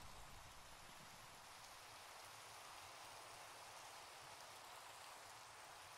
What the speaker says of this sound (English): And of course it's going to be a thunderstorm.